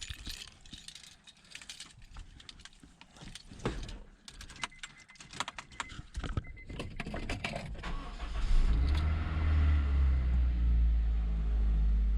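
A car engine cranks and fires up after some metallic clattering and rattling from work on the car, then settles into a loud, steady idle close by for the last few seconds.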